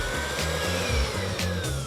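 An electric mixer beats cake batter with an egg and scraped vanilla seeds, a loud, close, continuous motor whir that pulses slightly as the beaters churn, with no one talking.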